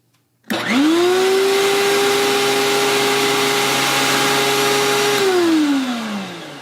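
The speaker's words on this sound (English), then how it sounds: "It's running the compressor fine." A loud air compressor, powered by a Dewalt portable power station, starts abruptly and runs with a steady whining hum for several seconds, then pitch drops as it begins winding down.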